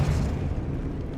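The Expelliarmus spell effect in Hogwarts Legacy, a short dense booming burst of magical energy that fills the moment with a loud, rumbling whoosh and slowly eases off.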